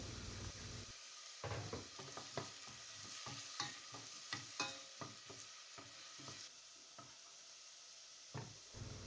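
Onion, curry leaves and ginger frying in hot oil for a chicken curry, a steady sizzle with repeated clinks and scrapes of a spoon stirring the pan up close, no voices.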